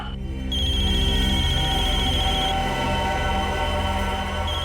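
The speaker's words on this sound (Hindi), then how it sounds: "इसमें तो मोबाइल के रिंगटोन जैसा कुछ बजा है।" Mobile phone ringtone playing loudly and steadily, a sustained electronic tone with a repeating melodic pattern that starts abruptly after a brief quiet moment and continues alone without speech.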